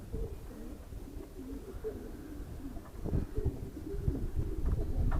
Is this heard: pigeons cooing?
yes